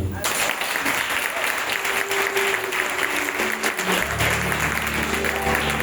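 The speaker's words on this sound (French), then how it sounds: "Et vous pouvez vous acclamer" Audience at a French-language charismatic prayer seminar in a church applauds steadily for several seconds, dense clapping throughout with a voice speaking over it.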